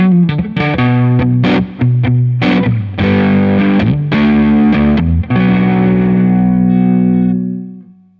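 An electric guitar runs through a Boss Waza Craft BD-2w Blues Driver pedal on its standard voicing, giving a mildly overdriven tone as a short blues phrase of picked notes and chords ends on a ringing, decaying chord.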